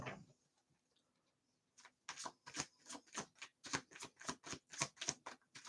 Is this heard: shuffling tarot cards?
yes